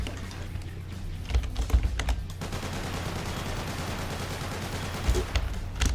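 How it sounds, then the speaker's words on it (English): Gunfire from a customizable weapons addon in Garry's Mod, a quick burst of several sharp shots early on, then quieter game ambience and another shot near the end, without talk. "if we shoot through this, we seem to be able to do some damage."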